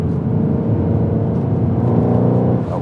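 Supercharged 750bhp Mercedes C63 accelerating hard, a loud, steady engine roar close by with a dense low rumble and rising whir that holds for about three seconds with no talking.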